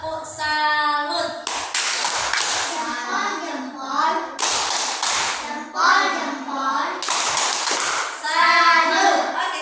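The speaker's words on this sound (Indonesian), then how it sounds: "Oke, tepuk dulu. Tepuk apa? Tepuk salut." A classroom of children performs a rhythmic tepuk salut clap routine led by a teacher, sharp bursts of group clapping alternating with chanted voices and the teacher's speech between claps.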